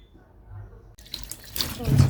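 Fruit is rinsed under a running kitchen tap, water splashing and swelling louder in the second half after a quiet start, with a voice speaking over it.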